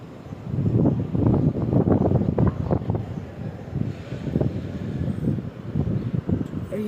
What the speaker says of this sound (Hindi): इतनी प्यारी हवा चल रही है।